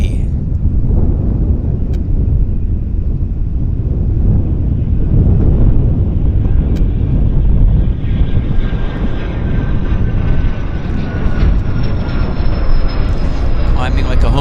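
A loud airplane engine roars steadily as the aircraft takes off and climbs from Vancouver International Airport on a windy day, with wind buffeting the microphone throughout.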